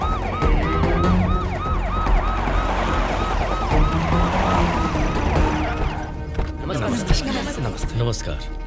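An ambulance siren wails loud and close in a steady rising-and-falling cycle for about six seconds, then breaks off into traffic and street noise.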